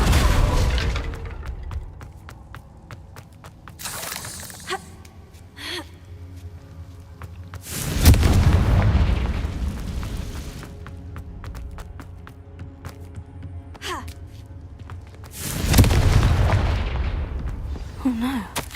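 Booming fire-spell blasts in the wizarding game Hogwarts Legacy, three loud bursts a few seconds apart, each with a broad rumbling roar that fades slowly into the sparse ambient bed between them.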